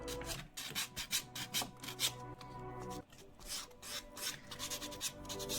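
A manicure nail file rasps against a fingernail to remove semi-permanent polish, close and fairly quiet, in quick repeated back-and-forth strokes with a brief pause midway.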